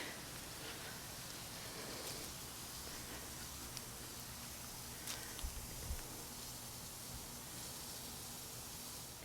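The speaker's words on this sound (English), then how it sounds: "I've got my sprinkler system going on my wildflower garden" Steady, faint hiss of a garden sprinkler spraying water on a wildflower garden, continuous and even, with a few soft patters and taps.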